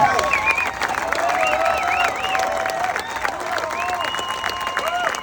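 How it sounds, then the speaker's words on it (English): A crowd at a Navy SEAL swim event applauds the race director and volunteers, sustained clapping mixed with cheers and whistles that runs steadily throughout, with voices calling out over it. "a special round of applause for Mr. Bill Brown, our race director, and all our volunteers"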